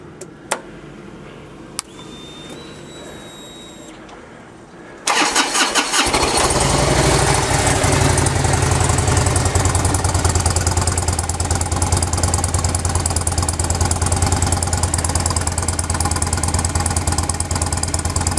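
A 2003 Harley-Davidson Road King on stock exhaust pipes cranks after a few faint clicks and fires at about five seconds, then settles into a loud, steady, close idle for the rest of the clip.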